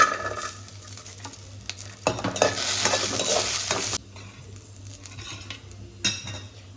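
Garlic and a generous amount of green chillies fry in a pan under a bright sizzle, with metal spoon clinks and scraping stirs, a louder hissing burst in the middle, heard up close without speech.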